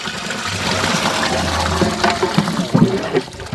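Water pours into a large cooking pot of chicken being prepared for a feast, a steady gushing splash that rises and grows choppier toward the end.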